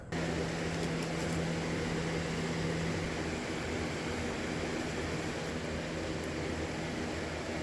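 A Troy-Bilt tiller's small engine runs steadily close by, a loud, even mechanical drone with a constant hum that holds without change from start to finish.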